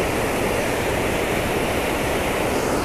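A loud, constant roar of falling water, dense and unbroken, close by with no voices.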